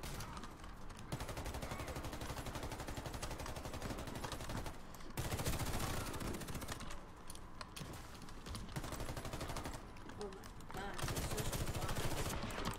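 Rapid bursts of automatic gunfire and sharp sniper shots in a Fortnite match, dense and continuous with brief lulls, loud and close throughout.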